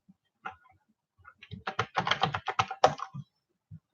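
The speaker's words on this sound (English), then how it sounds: "I'm just typing in the chat box" Close, quiet keyboard typing: a few isolated clicks, then a quick burst of rapid keystrokes, and a couple of final taps.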